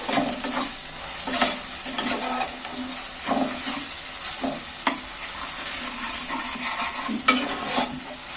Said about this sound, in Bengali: দেখো টমেটোটা ভাজা হয়ে গেছে, অনেকটা তেল ছেড়ে দিয়েছে মশলাটা থেকে।